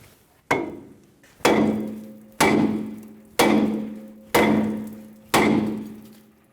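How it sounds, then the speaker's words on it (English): Six heavy, evenly spaced hammer blows strike the steel steering knuckle of a 2005-2015 Toyota Tacoma to free the upper ball joint, each a sharp metallic clang with a ringing tail, loud and close. "Using a hammer, we're going to give the knuckle a good bonk to let go of the ball joint."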